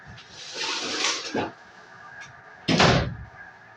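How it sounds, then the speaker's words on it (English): Door being pushed shut indoors: a rustling swing followed by a firm thud near the end, close by, with a voice heard briefly beforehand. "Just go shut the door."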